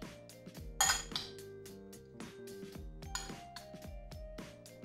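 Zucchini fritter batter stirred in a bowl with a utensil, light clinking and tapping against the bowl in an irregular rhythm, close and fairly quiet.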